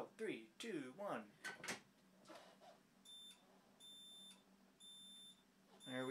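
A Simplex 4005 fire alarm panel sounds after a pull station is pulled, giving repeated electronic beeps in evenly spaced bursts, coming in after a short stretch of close speech.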